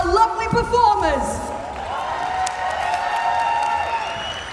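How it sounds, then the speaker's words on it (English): Crowd applause and cheering rise at a Pokémon championship event in Latin America, mixed with music and an announcer's voice over a busy arena hum. "let's give a big round of applause once again for our lovely performers"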